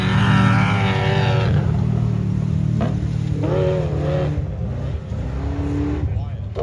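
An offroad race truck engine roars and revs at a dirt bike track and dunes event, rising and falling in pitch as it passes. People talk over the loud, continuous motor noise.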